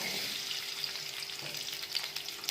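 Sliced onion sizzles steadily in hot oil in a pan as the base for methi bhaji, a continuous close frying hiss with faint stirring.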